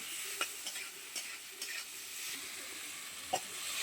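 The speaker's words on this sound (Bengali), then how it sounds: "আলু পটলটা মশলার সঙ্গে খুব ভালোভাবে কষিয়ে নেব।" Potato and pointed gourd are stir-fried in masala, with a soft steady sizzle and a handful of light spoon clicks against the pan, fairly quiet and with no talk.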